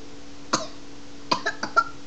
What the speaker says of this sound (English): if you hear coughing, that's my little brother